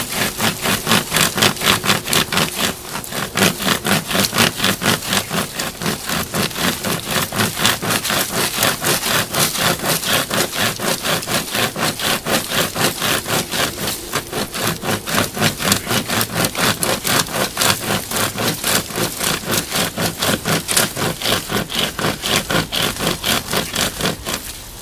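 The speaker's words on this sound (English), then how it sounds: "I'm just going to start sawing." A compact man-powered chainsaw cuts through a dead branch by hand, giving a steady, fast rhythmic rasp of chain teeth in wood that runs close and loud without pause for the whole stretch.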